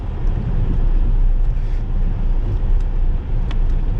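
A car drives through the snowy streets of Bucharest in winter, giving a steady, broad low rumble of road and wind noise with no clear breaks, loud and close throughout, with no talk.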